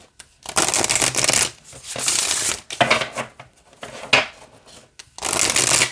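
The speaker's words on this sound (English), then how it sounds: "Oh, it shuffles just fine." An oracle card deck, a pared-down tarot style, being shuffled in several bursts of riffling, flapping card noise with short pauses between, close and fairly loud, with no talking.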